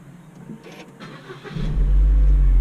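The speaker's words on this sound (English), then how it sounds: "Press the brakes and start the car." A Holden Cruze, model years 2008 to 2016, cranks briefly with a whirring starter, then the engine catches and settles into a loud, steady, low idle rumble close by.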